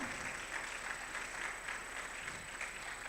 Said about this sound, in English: Keep clapping till he gets here, please.